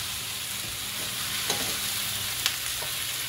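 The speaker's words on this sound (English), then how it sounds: "Now we'll just add the beef right in here, guys. Just gonna stir that up." Beef stirring and frying in a pan, a steady loud sizzle throughout with a couple of sharp spatula scrapes, close and without talk.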